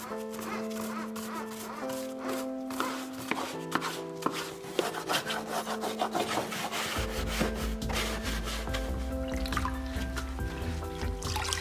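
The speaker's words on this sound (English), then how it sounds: "Use a brush to remove dry grass" A brush scrubbing dry grass off a Husqvarna Automower robotic lawn mower, with rapid rough bristle strokes in irregular bursts, close up over soft background music.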